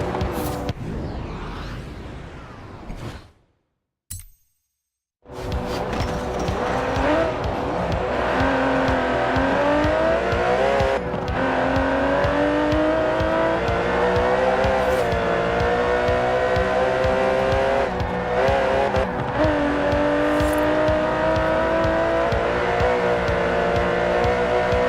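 Aston Martin DB11 with a 5.2-litre twin-turbo V12 driven in Forza Horizon 4, a close, loud engine revving and accelerating through rising gear sweeps after a brief gap of near silence.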